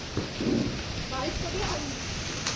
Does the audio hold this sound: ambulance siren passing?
no